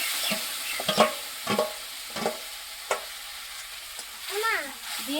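A wooden spatula scrapes and stirs through a hot ghee-coated pan in a few separate close strokes over a soft sizzle, with a brief voice at the end.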